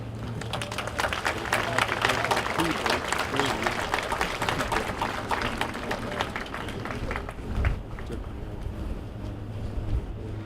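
Sustained audience applause at a Family Rosary Crusade gathering, a dense clatter of many hands clapping continuously before tapering off near the end, with a low hum underneath.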